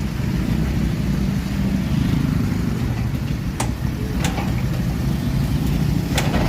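Yamaha YTX motorcycle engine running after a CDI conversion, a steady low idling rumble close to the mic with a few faint sharp clicks over it.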